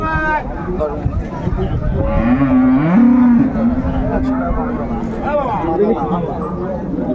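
A dairy cow moos loudly and long, close by, amid a hubbub of people talking at the busy Raniganj livestock market in Dinajpur.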